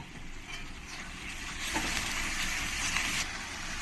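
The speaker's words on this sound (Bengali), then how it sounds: "এবার আমি এর মধ্যে এরকম ভালো করে তেল দিয়ে একে ভালো করে কষিয়ে নেব" Rajma kachori filling frying in oil in a pan, giving a steady close sizzling hiss that swells louder partway through and then eases back, with no voices.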